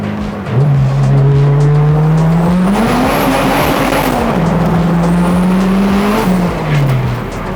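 Modified Honda Civic accelerating hard at full throttle, the engine note climbing loud and close through the gears with brief dips at each shift, and a faint tire squeal. There is no talk.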